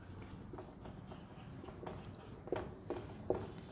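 Pen or chalk writing out a math proof that root 3 is irrational, a soft, faint scratching of short strokes, with a few louder taps near the end.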